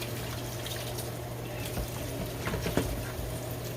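Tap water runs steadily while raw chicken wings are washed, a continuous rushing stream with a few faint clinks and splashes, with no voices.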